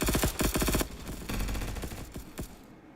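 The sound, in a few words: MG42 machine gun fire in a video game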